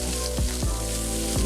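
Burger patties sizzle on a hot griddle in a home kitchen, a dense continuous crackle broken by a few low thumps and scrapes of handling, close and without speech.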